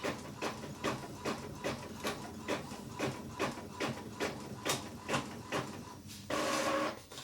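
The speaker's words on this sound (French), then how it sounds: "Voilà, vous voyez, c'est imprimé, ça n'a pas bourré ma machine, mon imprimante." A home printer prints a magazine image: its carriage pulses in a steady, rhythmic series of mechanical passes, close and alone, and ends in a louder whirring burst.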